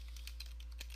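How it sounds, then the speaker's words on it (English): Quick keystrokes on a computer keyboard as a short command is typed, about seven light clicks in rapid succession over a steady low hum, close and clear. "Now what you want to do is type in regedit,"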